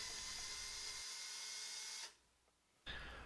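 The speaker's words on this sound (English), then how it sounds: "I'm drilling the eye sockets with a 7mm drill bit." A power drill with a 7mm bit whines at high speed drilling eye sockets in a wooden fishing lure, stops abruptly for under a second, then starts up again, close and loud.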